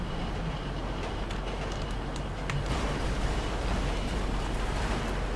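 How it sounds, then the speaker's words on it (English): A train approaches in a video game, a steady broadband rumble and roar that swells slightly louder partway through. "And here comes the train."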